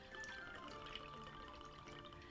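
Irish whiskey free poured from the bottle for a cocktail, a steady continuous trickle of liquid running for a couple of seconds, close and fairly quiet.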